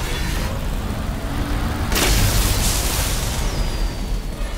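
A shotgun blasts in Resident Evil Village, one sharp loud boom midway through over a constant rumbling game background, with no speech.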